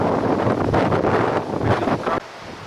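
Strong gusting wind buffets the microphone in loud, continuous broadband rumble, surging and dipping, then dropping abruptly near the end.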